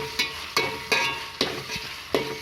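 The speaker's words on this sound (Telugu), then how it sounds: "కొత్తిమీర వేసిన తర్వాత కూడా మరొకసారి ఫ్రై పెట్టుకోవాలి" Coriander leaves frying in a pan during bagara rice preparation: a soft continuous sizzle broken by about six sharp, evenly spaced scrapes of a spatula against the pan, close and clear.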